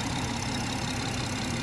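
A BMW 340i M Sport Shadow Edition Touring with an automatic gearbox idles smoothly, its steady, even engine hum and low rumble continuing without change close by.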